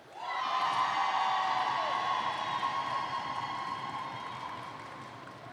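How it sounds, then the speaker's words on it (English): Spectators at a roller derby bout between Team Ireland and Team Scotland cheer for Ireland, a swelling crowd roar of shouts and whoops heard from a distance that peaks early and then slowly fades. "And let's have a cheer for Ireland."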